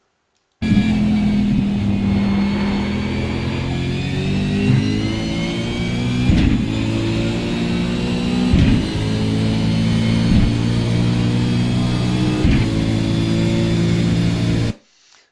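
A race car at Sebring brakes hard into a corner and downshifts to first gear, its engine droning loud and close with several sharp revving blips as the pitch steps down, and no talking.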